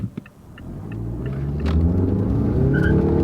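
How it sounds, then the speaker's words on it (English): 2.5-liter turbocharged car pulling out of a left turn, its engine swelling from a low rumble into a loud, rising roar, with a brief high tire chirp near the end and no speech. "You heard it burn a little bit of rubber."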